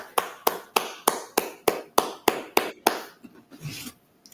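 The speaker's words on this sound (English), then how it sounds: "Clap it up." Sharp, rhythmic hand claps at a gathering, about ten evenly spaced loud claps close by, then a brief quieter tail of scattered sounds.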